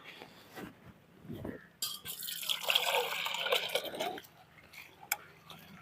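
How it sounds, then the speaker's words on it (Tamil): Black urad dal is swirled and rinsed by hand in water in a metal vessel, a close burst of sloshing with a few light clinks, then quiet. "கருப்பு உளுந்து கொஞ்சம் ஒன்று ரெண்டாக கலைஞ்சே போதும்"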